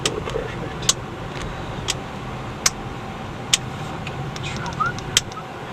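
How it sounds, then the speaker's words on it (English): Road traffic streams quickly past behind a Toyota Corolla in Orange County, a steady broadband rush of passing cars with faint engine hum and a few sharp clicks. "the traffic is moving quite quickly behind this Toyota Corolla"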